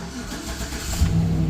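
A car engine with its AFM/DOD system deleted and the alternator not hooked up cranks and catches near the end, a low rumble rising out of a steady background hum.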